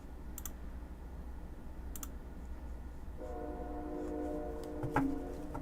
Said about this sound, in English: Sometimes you can hear the train in the microphone